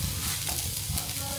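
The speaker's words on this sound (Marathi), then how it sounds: "हे थोडंसं भाजून घेतलं, आता याच्यात मी गूळ टाकते" Frying sizzle and scraping stir in a hot pan as roasted ingredients are stirred and jaggery is added for a Ganesh festival sweet, close and continuous over the brief moment.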